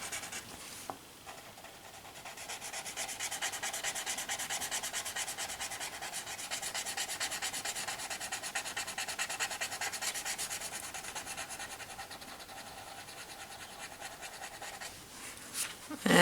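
Graphite pencil being rubbed softly on paper to blend the shading, a faint, steady scratchy rustle of close strokes continuing for most of the stretch.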